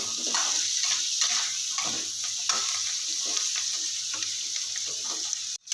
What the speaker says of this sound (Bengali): সবজিগুলো অবশ্যই একটু ভালো করে ভেজে নেবে